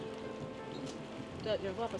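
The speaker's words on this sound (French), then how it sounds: "le préau, il est là, il se met à pleuvoir" Rain falls on an outdoor school shelter as a steady, moderate patter, with voices talking briefly near the end.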